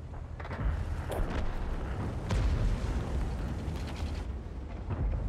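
Heavy booming tank gunfire in World of Tanks, with deep rumbling blasts and mechanical creaks filling the stretch, fairly loud and close.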